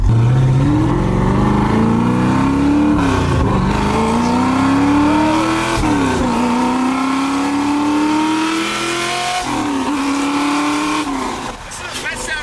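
A Mustang with completely bald rear tires does a burnout, its engine revving hard and rising in pitch over several long pulls as the tires spin, loud and close throughout.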